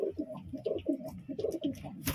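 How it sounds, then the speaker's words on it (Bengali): Pigeons coo in a loft, with several birds overlapping in close, rhythmic, throaty calls that repeat steadily throughout. "পায়রার ডাক দেখুন"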